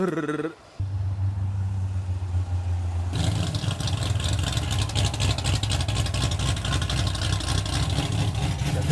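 A car engine idles with a rough, misfiring running note: a steady low hum that swells into a louder, harsher, continuous roar partway through, heard up close.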